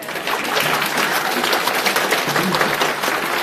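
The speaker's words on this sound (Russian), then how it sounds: "Давайте хлопать" An audience at a lecture breaks into applause, a dense, even wash of many hands clapping continuously and fairly loud.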